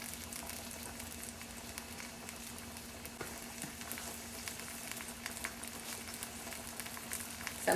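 Sliced onion and mushrooms fry in a pan with a soft, steady sizzle and faint crackles throughout, quiet and even with no voices.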